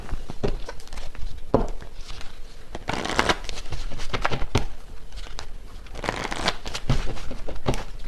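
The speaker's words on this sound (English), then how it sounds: "let me get one final card here." Tarot cards being shuffled by hand in repeated rapid riffling bursts, close and fairly loud, with soft papery rustles between them and no talking.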